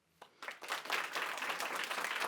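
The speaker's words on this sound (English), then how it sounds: "Let's hear the applause for Bertrand." A startup pitch audience breaks into applause for a contestant, rising quickly after a single early clap into steady, dense clapping that holds at a strong level.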